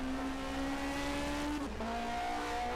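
Race cars at full throttle crossing the finish line on the Nürburgring Nordschleife in a 1980 DRM Division 2 sim race, a steady high engine whine from the cars that dips as they pass and shift.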